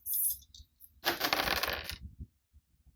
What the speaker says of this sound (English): Now I'm going to roll the dice.